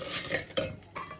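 A spoon clinks and scrapes against a pan while popcorn kernels with turmeric are stirred in oil, giving a few quick close metallic taps in a short burst with no talk.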